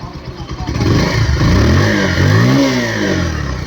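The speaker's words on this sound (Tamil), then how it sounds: "இப்போ வண்டியை ரேஸ் பண்ணி பார்ப்போம்" A Bajaj Pulsar 150 motorcycle engine revs up close, rising and falling in pitch through a few throttle blips before settling back toward idle.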